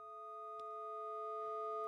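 A steady, pure sine-wave tone from a synthesizer patch, held evenly for about two seconds alongside a couple of fainter harmonic lines, with a brief click partway through and no voices.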